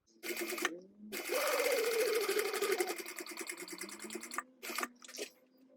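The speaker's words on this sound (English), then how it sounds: "I'm going to go around and I'm going to stitch 1/8 of an inch away" Sewing machine stitching around a notepad cover, running in a steady fast whir in bursts with brief pauses and short restarts, close and clear.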